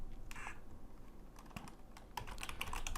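Keys clatter on a computer keyboard in irregular bursts, quiet and close, with a quick flurry of keystrokes building toward the end and no talk.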